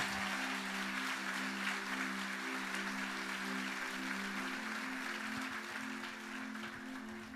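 A church congregation applauds during a Spanish-language sermon, a steady wash of clapping over a sustained organ or keyboard chord that holds throughout.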